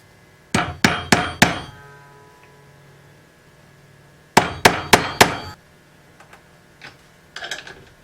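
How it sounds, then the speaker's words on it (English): Two quick series of four ringing metallic hammer taps on a threaded insert, separated by a pause, followed by a few fainter taps near the end. "I'm going to tap on it with a hammer when I'm putting it in there"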